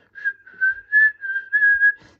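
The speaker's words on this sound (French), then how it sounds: "j'arrive à siffler quand même" A person whistling a short melodic phrase, clear tonal notes rising and falling in a few connected bursts, close and alone with no talking.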